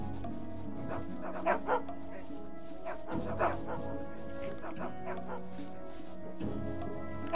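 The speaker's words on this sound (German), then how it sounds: "Hundehorn. Ruft einen Hund aus dem alten Lager bei." A dog in the Gothic mod Die Bedrohung, summoned from the Old Camp by a dog horn, gives a few yips and barks over steady game ambience and music.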